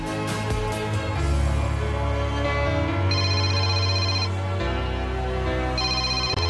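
A mobile phone rings indoors with a repeating electronic melody of bright tones in short phrases, loud and clear over a low background hum, with no one talking.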